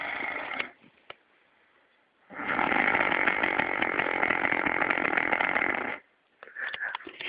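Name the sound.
man snoring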